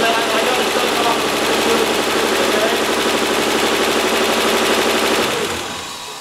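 A Nissan 300ZX running after an engine swap, idling close up with a loud, even, rapid mechanical clatter that holds steady and then drops away near the end as it is shut off.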